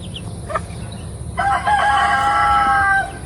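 A mixed heritage chicken crows loudly nearby in one sustained call, preceded by a few short clucks over a low background hum.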